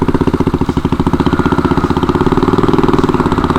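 A motorcycle engine runs loud and close in a steady, throbbing idle with a fast regular pulse throughout, on a rural road trip; no talking.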